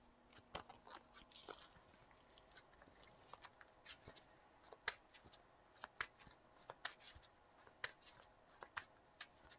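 Playing cards are shuffled for a tabletop card game, a run of quick crisp riffles and snaps at close range, with no talking.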